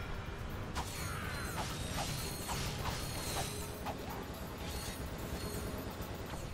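Ratchet & Clank for PS2 running under emulation: steady, dense game audio of clanking mechanisms and creaking metal, with regular sharp impacts and swishes over a constant bed of sound, no speech.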